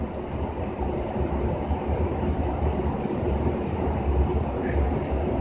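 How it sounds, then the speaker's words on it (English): Loud home furnace blower running continuously with a steady low roaring rumble and broadband air noise, close and unbroken throughout. "Sorry for the loud furnace."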